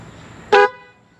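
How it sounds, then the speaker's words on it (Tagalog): A single short, loud honk from a CFMOTO 450CL-C motorcycle horn, slightly thin and nasal, breaking through a quiet background. "pakinggan yung mabuti yung busina natin"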